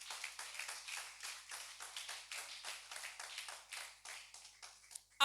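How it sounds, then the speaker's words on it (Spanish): A church congregation claps in a long run of fairly even, crowded hand claps, steady and a little distant, with no speech over it. "Denle ese aplauso al Señor Jesucristo."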